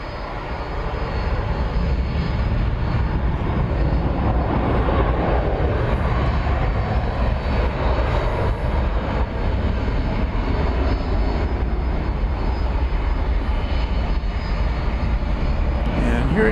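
Jet airliner engines roar steadily at DFW Airport as a 1993-built plane passes in the foreground, a loud continuous rumble with some broadband wind noise throughout.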